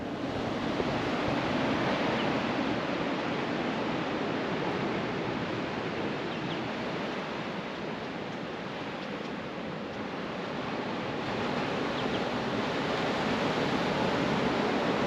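Steady, continuous wash of ocean waves breaking on Blue Haven Beach, a broad roaring surf that swells slightly and never lets up, with no talking.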